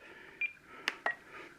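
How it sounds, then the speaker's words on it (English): Timer beeps from an RC transmitter set up for a BNF plane with AS3X+ safe mode and reverse thrust: a few short, close electronic tones, roughly three quick beeps spread over a second or so, alone against faint background hiss. "That's my timer telling me it's time to go."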